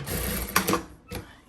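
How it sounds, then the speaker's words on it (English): A sewing machine stitches close to a line on a Dollar Tree mat, giving short rattling bursts of needle clatter, near and fairly quiet, with a brief pause before another burst. "I'm stitching close to the line as possible."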